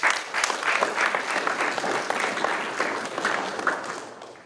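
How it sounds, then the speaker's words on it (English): A ceremony audience claps at a military change of command for the 63rd HHD, a moderately loud, even wash of many hands that fades slightly toward the end. "Let's give them a round of applause."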